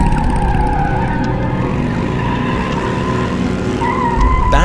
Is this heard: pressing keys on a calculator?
no